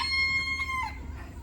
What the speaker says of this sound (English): So here's the chickens.